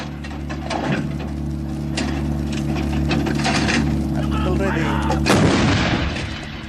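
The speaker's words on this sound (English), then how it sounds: "To see the effect of burst fire in area diamond." Artillery weapon firing a three-round burst of high-explosive shells into a target area, heavy booms and rumble under a steady mechanical drone, with a sharp blast near the end while a narrator talks over it.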